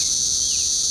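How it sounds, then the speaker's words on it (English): Periodical cicadas emerging after 17 years underground in Louisville fill the air with a loud, steady, unbroken high-pitched droning chorus, dense and continuous with no pauses and no voices. "After spending the last 17 years underground, the cicadas have returned."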